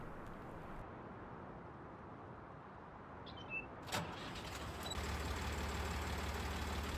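An old Massey tractor in the Farming Simulator 19 video game cranks with a brief mechanical clatter, then its engine catches and settles into a steady low rumble that continues to the end.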